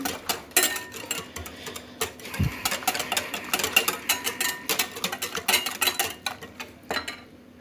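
Half a glass of oil is stirred into a basbousa batter with orange juice in a bowl, giving quick rhythmic clicking and scraping strokes that repeat close up throughout.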